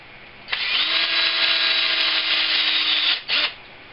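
A power drill whirs into a wooden pen blank for about three seconds with a grinding, rubbing bite, stops, then gives one brief second burst, close by.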